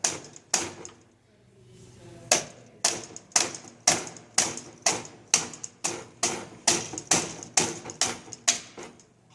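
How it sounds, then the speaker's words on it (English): A hammer taps on PVC pipe to drive out the drive bolt of a Hase Kettwiesel trike axle, sharp metallic strikes close by, two early hits, a pause, then a steady run of about fifteen rhythmic blows. "we're going to take a hammer and start tapping on it."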